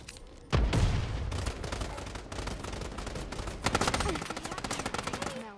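Rapid automatic gunfire from a player's weapon in a shooter video game, a dense, loud stream of close shots after a sharp opening blast, continuing almost without pause, with faint game sounds underneath.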